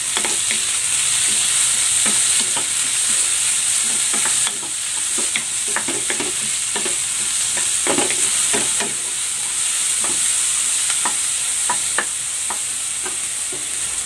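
Tomatoes go into onions sautéing in a pan, making a steady close sizzle with scattered clicks and scrapes of stirring throughout.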